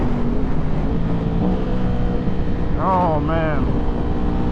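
Ducati Panigale V4 with an aftermarket exhaust, ridden on the road while downshifting: steady engine drone and wind rush from the bike, with two quick rising-and-falling revs near the end and a rider's brief voice.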